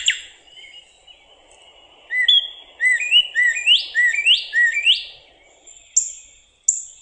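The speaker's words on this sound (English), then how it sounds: "It's a really high, clear, kind of piercing whistle." A bird sings a series of high, clear, piercing whistles, rising sweeps repeated rhythmically in quick succession, close and distinct against a quiet background, with a few isolated notes at the end.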